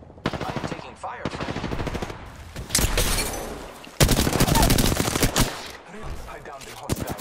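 Dense automatic gunfire in a shooter video game rattles in fast, continuous bursts with a few heavier blasts mixed in, loud and close, and a brief pause in the middle.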